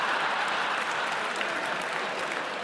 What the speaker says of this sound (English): Look at them all applauding again.